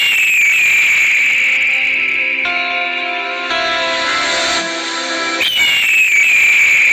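A played recording of an eagle call rings out as a long, shrill whistling cry with echoing reverberation, loud and sustained, shifting in tone midway before a sharper cry near the end.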